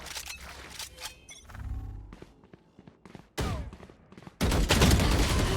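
Gunfire in the tactical shooter Valorant comes in scattered loud shots and short bursts, with clicks and thuds in between and a heavier barrage at the end.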